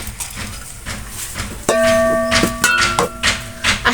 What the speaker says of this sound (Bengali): বাড়ি কাজ চলছে দয়া করে এক্সট্রা সাউন্ডের জন্য কিছু মনে করবেন না